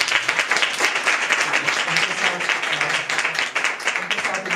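Congregation at a Sunday church service claps together, rapid dense applause with a pulsing rhythm, close and loud, while voices murmur underneath.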